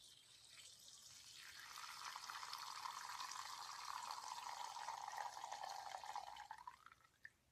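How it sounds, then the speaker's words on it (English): A thin stream of urine trickling into water, a soft continuous splashing that swells, holds steady, then tapers off near the end, alone with no talking. "I gotta relax so the pee can trickle down now."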